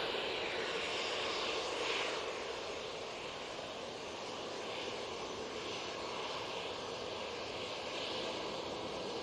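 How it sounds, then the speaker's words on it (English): An Easyjet airliner at Manchester Airport roars steadily with broadband engine noise that swells slightly and holds at a moderate distance throughout. "Easyjet now coming on."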